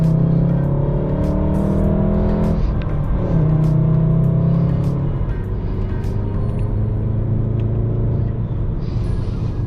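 A car engine idles with a steady low rumble, its pitch shifting slightly as it revs gently, close and continuous throughout.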